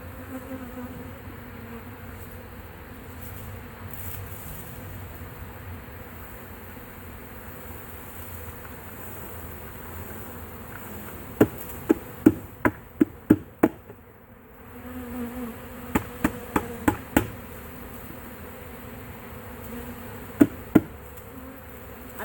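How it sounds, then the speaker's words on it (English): Honeybees from a swarm taken out of a boat in Auburndale, Florida, buzz steadily throughout, a dense continuous drone with a few sharp knocks and taps clustered partway through and again near the end. "I know that's a lot of bees for that small nuke"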